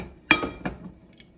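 A lid set onto a pot of chili simmering on low heat, giving a sharp clink followed by a couple of softer rattling knocks, close by and brief.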